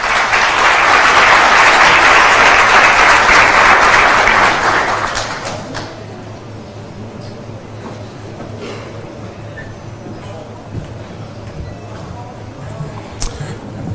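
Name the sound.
audience applause welcoming a speaker at a conference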